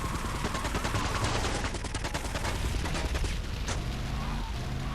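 Rapid gunfire in Grand Theft Auto Vice City Definitive Edition on PS5, a dense, continuous burst of automatic shots with loud booming impacts filling the whole stretch, layered over game sound.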